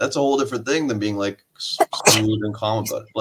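A single quick sneeze bursts out in a quiet room between stretches of a calm conversation, close and short, with people talking on either side of it.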